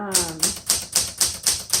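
Keys striking on a 1978 Smith Corona Classic 12 manual typewriter, seven crisp, evenly paced typebar clacks, close and loud, with a brief low tonal ring fading at the start.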